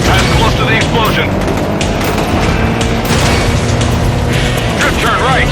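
Loud, dense blasts and rumbling booms fill a chase scene in the video game Stuntman Ignition, a continuous heavy roar with sharp bursts layered over engine noise throughout.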